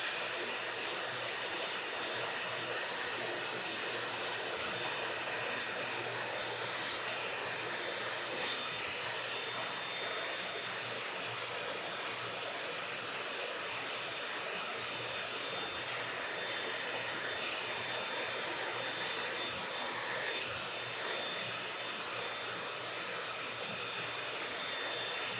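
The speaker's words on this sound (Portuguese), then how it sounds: "Vento do secador no quente" A hair dryer set to hot blows in a steady, loud, breathy whoosh while hair is styled during a mid fade haircut. The airflow wavers slightly as the dryer moves around the head, and no voices are heard.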